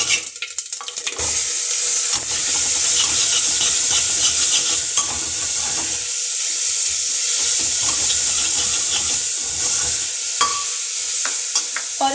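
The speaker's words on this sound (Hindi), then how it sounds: "आप पानी भी डालते हुए मुझे देख सकते हैं, सिर्फ इतना सा पानी मैं इसका डालूंगी" Water is poured into a pan of hot ghee, setting off a loud, steady sizzle and crackle that runs throughout without any talk.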